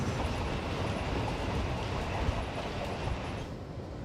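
Steady rumbling rattle of a long-distance passenger train rolling along the tracks between Adelaide and Perth, continuous and fairly loud, easing off slightly near the end.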